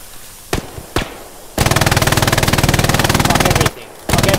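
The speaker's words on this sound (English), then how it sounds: "Another MG." An MG42 machine gun fires in a WW2 shooter game on Hill 400: two single sharp shots, then a loud, rapid sustained burst lasting about two seconds, a brief pause, and another burst starting.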